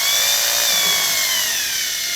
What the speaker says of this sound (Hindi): हम करेंगे ड्रिलिंग।